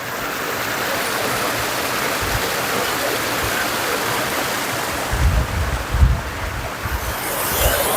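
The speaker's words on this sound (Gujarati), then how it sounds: "આ ઝરણું એ થોડુંક મોટું વહી રહ્યું છે પાણી વધારે છે" The Kundi waterfall stream in Kutch flows with a full, steady rush of running water, a constant broadband roar with some low wind buffeting toward the end.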